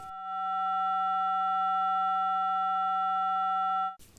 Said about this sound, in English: with the ring mod circuit, get a wave or a frequency at 700 and one at 1300